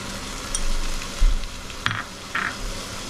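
Garlic paste and ginger paste are stirred in a hot frying pan for chicken yakhni pulao. A continuous close sizzle is broken by a few sharp spoon scrapes and clinks against the pan, with no voices.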